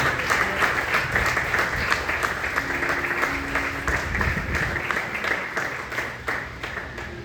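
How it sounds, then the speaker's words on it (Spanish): A church congregation claps together during a Sunday morning service, steady dense applause filling the room throughout, with a few scattered voices mixed in. "Yo te invito a que le des un aplauso al Rey de Gloria en esta mañana."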